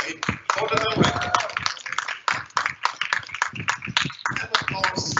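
Audience at a BA Fine Arts diploma ceremony clapping in a brisk patter of claps, close and uneven, with a voice talking over parts of it.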